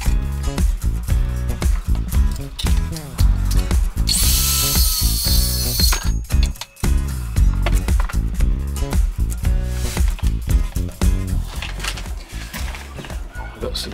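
A power drill driving 3.5 by 25mm screws into the base of a handmade wooden crate, with repeated short bursts of whirring and ratcheting clicks in a steady rhythm, loud and close.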